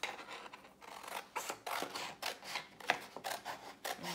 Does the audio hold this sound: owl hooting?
no